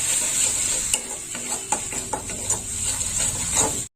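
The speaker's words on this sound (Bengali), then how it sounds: "সব মশলা একসঙ্গে কষে নেব।" Ginger, coriander and cumin pastes fry and get stirred in hot oil in a pan, a steady close sizzle with repeated spoon scrapes and clinks against the metal, no voices.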